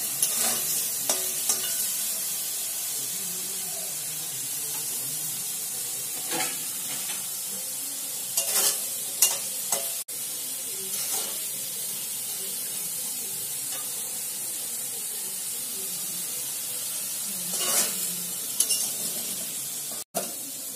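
Potato pieces seasoned with salt and turmeric fry in hot oil with a constant loud sizzle, while a spatula stirs and scrapes the pan in scattered knocks throughout.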